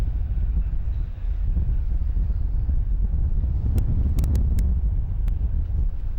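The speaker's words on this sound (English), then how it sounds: "It's quite windy out here." Strong wind roars and buffets outdoors, a constant low rumble with a few brief sharp clicks partway through.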